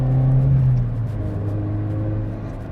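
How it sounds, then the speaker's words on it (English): Toyota GT86 boxer engine revving high past 3000 RPM, a loud steady drone with a strong low tone that holds then eases slightly, heard close and alone without talk. "So this engine wakes up after 3000 RPMs"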